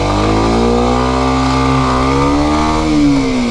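A motorcycle engine held at high revs through a slow clutch launch, loud and close, the pitch holding steady then rising slightly as it pulls away.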